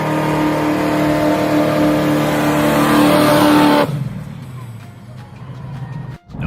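Loud, steady roar of a Cobra Jet V8 muscle car engine held at high revs for nearly four seconds, then cutting off abruptly to a low idle rumble with a brief dip near the end.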